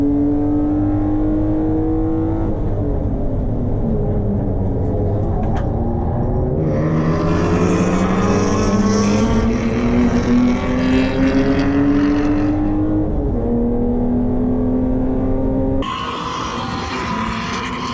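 Race cars, a Honda Integra and a Ford Falcon XR8, accelerating at Hampton Downs. Engines roar loud and close throughout, their pitch climbing through gears and dropping at shifts in an unbroken howl.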